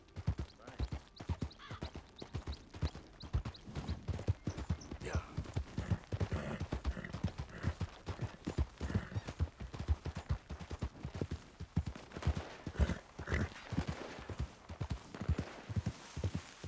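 Rapid hoof clip-clop from a horse in Red Dead Redemption 2, steady and close throughout, with busy game sound effects layered around it.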